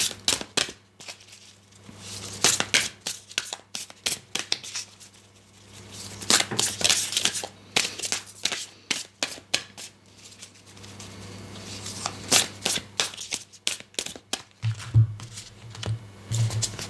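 Oracle cards being shuffled and drawn for a reading, giving a run of soft, irregular papery flicks and slaps across the whole stretch, close to the microphone with no talking.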